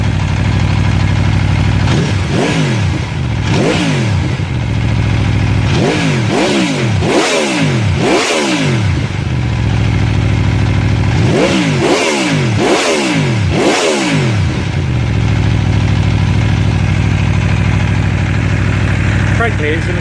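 A V4 motorcycle engine at idle is blipped on the throttle in two quick clusters of three or four sharp revs each, close and loud, with the steady idle burble running between and after them.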